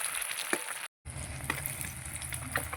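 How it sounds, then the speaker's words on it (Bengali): Fish frying in hot oil in a home kitchen sizzles steadily with crackling pops, interrupted by a brief silent gap, close and moderate in level with no talk. "মাছ ভাজা আমার হয়ে গেছে"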